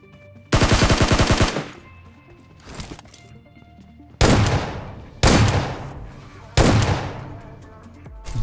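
Loud, close gunfire from PUBG Mobile: a sustained automatic burst, then a few single heavy shots, each ringing out with a decaying tail between them.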